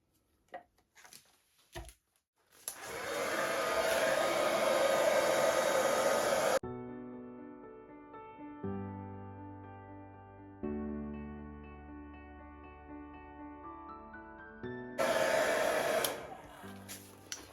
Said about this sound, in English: And then I will just use my hairdryer to blow this out.